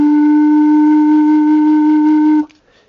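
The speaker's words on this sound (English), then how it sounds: "if I close the end and blow in the hole," Closed E organ pipe with a hole, blown through the hole with the end stopped, giving a steady flute-like tone that holds for about two and a half seconds and then cuts off sharply.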